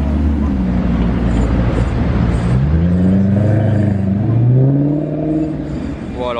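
A red Ferrari 599 SA Aperta with British plates sounds its engine and exhaust on a road, a loud, steady low roar with rising and falling pitch sweeps as it revs, close by and dominant throughout.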